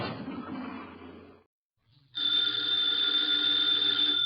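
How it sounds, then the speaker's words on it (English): An old-fashioned telephone bell rings loudly and steadily, a bright, sustained metallic trill that starts after a short pause and continues to the end, following a brief stretch of quieter sound. "the ringing of that phone bell means mystery, adventure"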